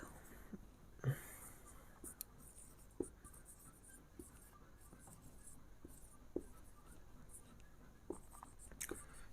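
Faint scratching of chalk or pen writing on a board during a geometry lesson, quiet irregular strokes and taps over a hushed room background.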